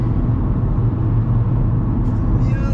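A 2009 Opel Meriva compact MPV cruises along the road, its engine and tyre rumble a steady, loud low drone from inside the cabin, with a faint higher whine creeping in near the end.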